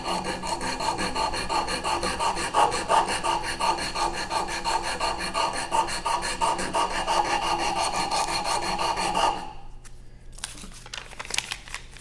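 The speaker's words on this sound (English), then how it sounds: "then you're going to switch to the sandpaper" Wood sanded by hand with sandpaper after being rounded, a continuous close rasping scrub with a steady back-and-forth rhythm that stops near the end, leaving a few faint knocks.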